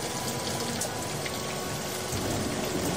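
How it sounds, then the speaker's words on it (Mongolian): Heavy rain pours as a sound effect in an animated story of Noah's ark, a dense, loud, unbroken hiss of falling water with no talking. "өдөр шөнийн тасралтгүй бороо асгарав"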